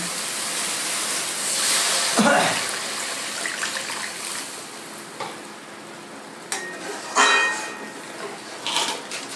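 Water poured into hot oil-fried masala in a pan while cooking masala paneer, giving a broad hissing sizzle that flares near the start, then settles into softer bubbling with scattered stirring clinks and bursts of steam.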